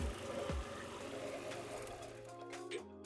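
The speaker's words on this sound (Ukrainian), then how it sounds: "отако вентилятор наш запрацював" Cooling fan spinning on a Yamaha Majesty 180 scooter rebuilt from scrap, a steady close whir over a low mechanical hum, with a couple of brief knocks early on and no talking.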